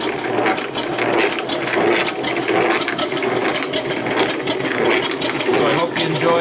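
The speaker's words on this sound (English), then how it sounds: "Got a little bit of gear noise in it." Scratch-built four-cylinder steam engine running with a steady rapid mechanical clatter and ticking gear noise, loud and close, continuous throughout with no let-up.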